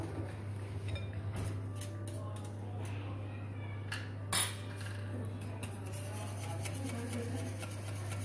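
Cake batter being mixed in a bowl with a utensil for a vegan chocolate cake, producing scattered soft clinks and scrapes against steady background hum, with faint talk at times.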